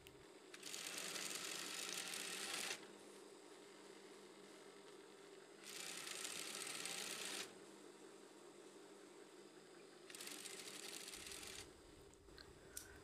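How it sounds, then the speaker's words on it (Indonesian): Sewing machine stitching the fabric of drawstring shorts in three separate bursts, each a steady, faint mechanical whirr lasting about two seconds, with quiet pauses between them and no talking. "Kita setik 2 jahitan ya supaya lebih kuat dan juga ada variasinya."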